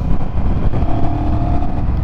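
A Honda Rebel 1100 motorcycle engine runs close by with a steady, muted exhaust rumble that holds an even level without sharp revs.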